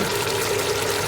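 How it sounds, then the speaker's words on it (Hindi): A little water is poured into a pan of quail korma sauce, giving a steady rushing, splashing pour that fills the brief moment without pause. "ये मैंने थोड़ा सा पानी डाला"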